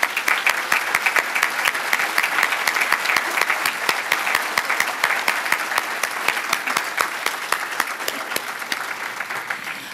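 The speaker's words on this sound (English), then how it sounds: "let us please give this truly deserving crowd a round of applause" A large audience at an awards ceremony claps steadily for nearly ten seconds, dense and loud with sharp individual claps standing out, tapering slightly toward the end.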